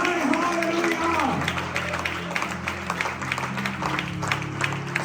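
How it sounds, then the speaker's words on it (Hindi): A church congregation claps during a sermon, a sustained crowd applause running under a preacher's amplified voice and a held musical backing. "जोरदार तालियां भरपूर अंदाज में जितनी मोहब्बत करते हैं उनकी तालियां बजाएं"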